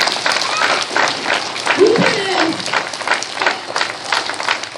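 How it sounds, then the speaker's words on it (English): A school assembly audience applauds steadily in a dense, even wash of clapping that runs throughout, with voices mixed into the crowd noise. "Give them a round of applause"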